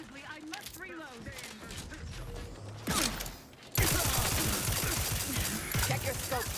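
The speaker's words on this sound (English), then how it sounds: "Sensibly, I must reload." A weapon is reloaded in The Outer Worlds 2, with clicks and metallic mechanical clacks and a sliding action. A sudden burst of loud gunfire and combat noise follows, and speech is heard partway through.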